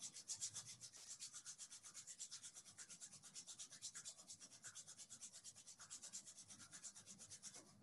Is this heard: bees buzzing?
no